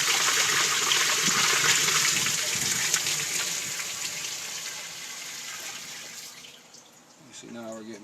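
With the pump switched off, water gushes and drains through a Cetus sieve, a loud rushing flow that gradually tapers and quiets, with a voice starting briefly at the end.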